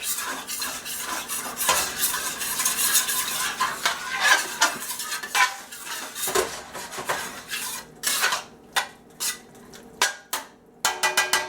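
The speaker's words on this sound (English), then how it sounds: "I'll scrape the bottom of the pan, get all that good stuff off the bottom." A metal utensil scrapes and stirs across the bottom of a pan of smoked sausage stew, loud close rhythmic scraping over a faint sizzle, becoming choppy separate strokes toward the end.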